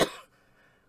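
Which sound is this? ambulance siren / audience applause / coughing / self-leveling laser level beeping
coughing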